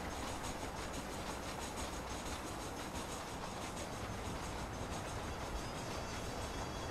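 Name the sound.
train running on rails, from the video game Red Dead Redemption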